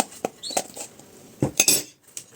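A spoon clinks and scrapes against a bowl while mixing pie batter with baking powder for a pineapple pie, giving a few sharp separate knocks and a brief clattering burst, close and with no voices.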